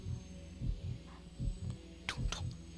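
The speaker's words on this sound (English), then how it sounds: "We can hear the heartbeat." A slow, rhythmic heartbeat from the game The Legend of Zelda: Twilight Princess throbs in low, muffled pulses over a steady hum, with a few sharper game effects near the end and no talk.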